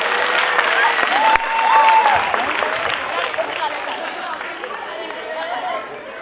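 Loud audience applause at a dance academy's annual function, a dense sustained roar of clapping from a large crowd with cheering and chatter mixed in, swelling early then gradually easing.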